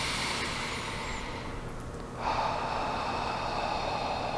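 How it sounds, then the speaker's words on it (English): Slow, deep meditative breathing: a long steady inhale through the nose, then a soft airy exhale through the mouth, close and quiet over a faint background hiss. "nice slow deep breath in through the nose, out through the mouth"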